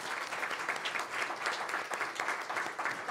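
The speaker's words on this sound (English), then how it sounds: "If you would join me in giving them a round of applause." Moderate audience applause greets forum panelists, steady clapping from a room of people lasting a few seconds at fairly low level.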